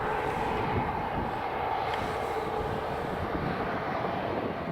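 Ryanair Boeing 737 jet passing near Dublin Airport, a continuous loud engine roar and whine holding steady throughout, with no talking.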